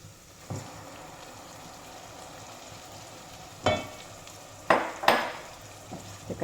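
Blended tomato is added to softened onions frying in a pan, giving a soft steady sizzle broken by a few loud clanks and scrapes of a utensil against the pan.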